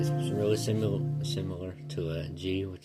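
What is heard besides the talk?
No everyday noises stand out.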